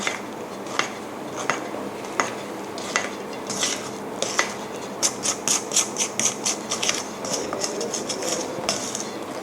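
Gentle folding of corn muffin batter in a bowl, with a utensil softly scraping and tapping against the sides, a run of quicker clinks toward the end, no voices.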